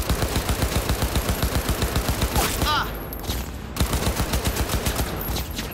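Rapid automatic gunfire in the video game Cyberpunk 2077, dense rhythmic bursts of shots that pause briefly with a reload-like clatter and then resume, loud and close.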